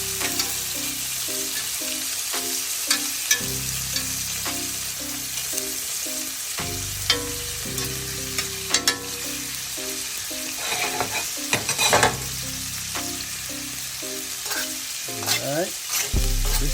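Shrimp frying in a pan for Chinese house fried rice, a steady close sizzle with occasional scraping of a utensil stirring the pan, no talking.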